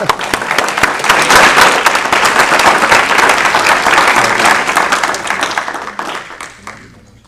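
An audience at a county board of education meeting applauds a student track athlete, with loud, dense clapping swelling quickly and holding for several seconds before gradually fading out.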